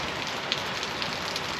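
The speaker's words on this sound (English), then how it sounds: "now as you can probably see, it's raining cats and dogs" Heavy rain falls steadily outside a van being converted, a dense, even hiss of drops drumming on the surface nearby with a few sharper splashes, no voices.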